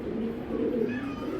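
Racing pigeons at a loft cooing: a soft, low, rolling coo that comes through fairly faint and steady across the short moment, with no talk over it.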